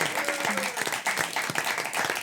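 Studio audience applauding on a French television game show, a dense wash of clapping that continues steadily throughout, with faint voices mixed in.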